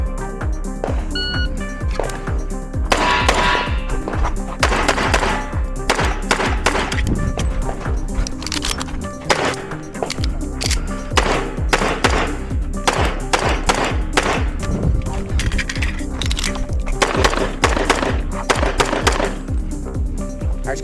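Pistol fire on a stage of an IDPA defensive pistol match, with many sharp shots coming in quick strings and bursts across the whole stretch, loud and close, along with some clatter and thumps in between.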